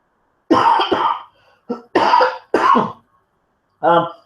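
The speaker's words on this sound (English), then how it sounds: "Dealing with a cough at the moment." A person coughs several times in quick harsh bursts, close by, with short pauses between, followed by a brief voiced throat sound.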